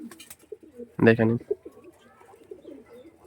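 Andhra dragon face pigeons coo in a low, steady murmur close by, and a voice speaks a brief phrase partway through.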